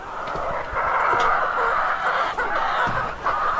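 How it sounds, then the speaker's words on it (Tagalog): Chickens cluck in their coop at feeding time, a busy overlapping chorus of clucks that carries on steadily and fairly close. "So yan, pasok tayo mga kanoypi."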